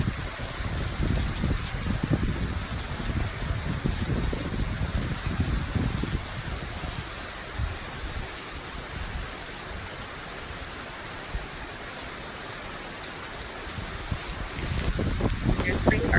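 Steady rain with downspouts gushing water downhill outdoors, a continuous broadband wash of splashing and pouring that is louder at first, eases through the middle and swells again at the end, with no talk.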